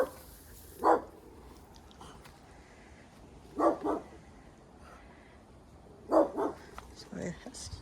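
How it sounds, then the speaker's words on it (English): Dogs next door bark in short bursts, single and double barks several seconds apart, heard at a moderate distance outdoors in a garden, with a quiet background between the barks. "that's next door's dogs"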